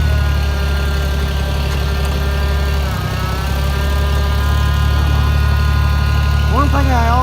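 A large tractor engine is cold started with the choke, cranking and then idling with a loud, steady low drone and a rising rev near the end.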